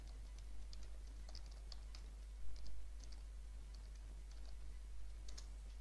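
A command being typed on a computer keyboard: quiet, scattered keystroke clicks in short bursts over a steady low electrical hum, with no one speaking.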